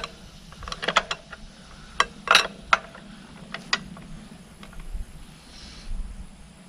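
Wrench ratcheting on a stuck reverse-threaded bolt held with blue Loctite: a few sparse, crisp metallic clicks and a short burst of ratchet clatter, close up over a low room hum.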